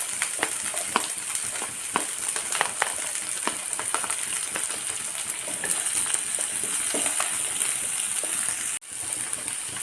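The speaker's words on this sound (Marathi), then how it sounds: "कांदा मिरची आणि ही छान आपल्याला ब्राऊन होईपर्यंत परतून घ्यायचं आहे." Onion and green chili fry in a pan, giving a soft continuous sizzle with scattered crackles and occasional stirring, close but fairly quiet, with no voices.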